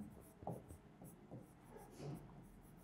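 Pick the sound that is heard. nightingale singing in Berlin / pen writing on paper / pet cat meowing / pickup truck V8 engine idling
pen writing on paper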